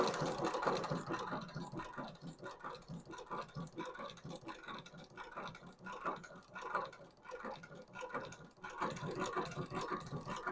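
A long-arm shoe repair sewing machine runs in steady bursts, its needle ticking and clattering rhythmically up close, pausing briefly now and then as the presser foot is turned; no one talks over it.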